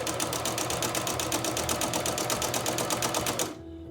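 A home sewing machine stitches fabric in a fast, even mechanical chatter, close and steady, then stops abruptly near the end, leaving a faint hum.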